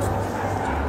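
Dogs at an animal shelter festival yip and bark in short bursts amid a busy, noisy crowd with people talking nearby.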